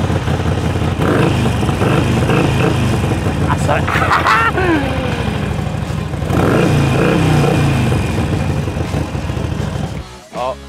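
A motorcycle engine runs loud and close for about ten seconds, a rough steady rumble with a couple of revs, then cuts off abruptly near the end, with a brief spoken word over it.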